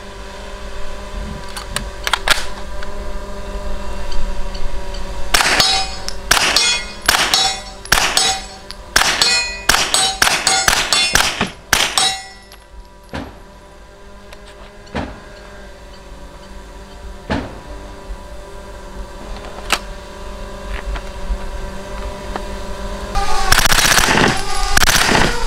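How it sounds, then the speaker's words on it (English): A suppressed bullpup rifle fired at an operator training facility in Israel, with sharp muffled shots in irregular bursts and bright metallic clangs and rings from steel targets, then quieter scattered hits and a closing burst. "I'm gonna show you guys some shooting with the suppressor, and it's really smooth."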